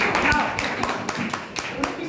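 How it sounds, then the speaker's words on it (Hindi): A classroom full of people claps for competing teams, giving several sharp irregular claps and taps that rise over a background murmur of voices. "इन टीम्स के लिए बहुत ताली बजाएं अच्छे से"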